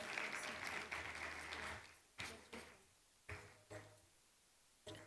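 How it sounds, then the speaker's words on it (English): Audience applause at a diplomatic dialogue event, a dense burst of clapping that thins into scattered separate claps and knocks toward the end. "Round of applause for him, guys."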